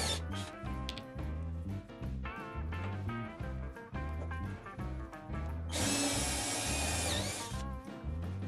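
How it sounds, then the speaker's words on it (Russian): A power drill bores holes through plastic sewer pipe end caps in a steady whining buzz, with a louder, harsher burst of drilling near the end. "Теперь в заглушках проделываем отверстия."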